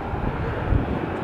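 A Sun Country airliner coming in at Minneapolis airport, a steady broad jet roar holding at moderate loudness with a brief swell midway, no talk.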